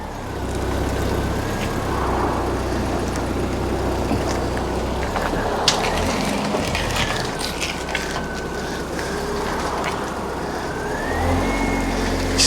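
A 1996 MGF with a K-series engine reverses and manoeuvres at low speed, a steady low engine hum with a faint rising whine and some outdoor background noise.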